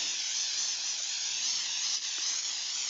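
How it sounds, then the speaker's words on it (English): Baking spray made of grease and flour hisses steadily from a shaken aerosol can, a continuous bright spray lasting about three seconds with only slight wavering. "This is baking spray, which basically is grease and flour in an aerosol can."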